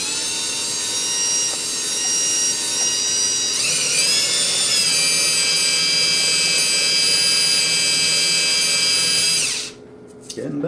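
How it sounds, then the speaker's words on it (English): A drill fitted with sandpaper buffs a motor part from a Featherweight 221K sewing machine, giving a steady high whine run at moderate speed that shifts pitch partway through, then stops abruptly near the end. "I really don't want to take a whole lot off, so I'm not running my drill real fast."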